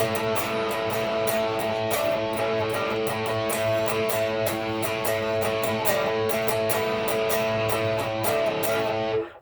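Electric guitar strums a busy, rhythmic riff with steady sharp attacks, ringing full chords throughout before ending abruptly on a power chord.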